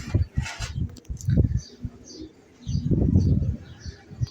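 A young pigeon coos in low, throaty short bursts with a brief pause, close by, with faint chirps above.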